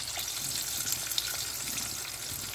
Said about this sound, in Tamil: இல்லைன்னா அப்படியே தெரிக்கும் அந்த தவ்வு பொரிக்கிறப்ப